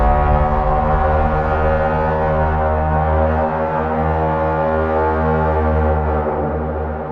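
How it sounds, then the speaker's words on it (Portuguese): A horn blown as a sound effect, one long sustained droning blast with rich tones, loud and steady throughout before easing slightly at the end. "Acima, alguém soprou uma corneta."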